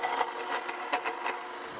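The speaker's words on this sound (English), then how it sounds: "Let's blend a couple of strawberries." A blender chops and purees a couple of fresh strawberries, its steady whirring motor and blades running loud and close the whole time, with no talking.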